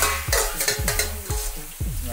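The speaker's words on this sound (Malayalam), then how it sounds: "ജസ്റ്റ് ഒരു 40-50 seconds ഒന്ന് നന്നായിട്ട് ഇളക്കി കൊടുക്കുക." A spoon stirs a thick beef and plantain curry in a hot pan, sizzling loudly with several scraping strokes in quick succession, close up and with no voices.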